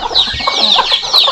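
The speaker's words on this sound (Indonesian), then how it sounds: "Garang banget ibu ayam ini tuh." A mother hen clucking close and loud, a rapid run of sharp agitated clucks in a brief burst.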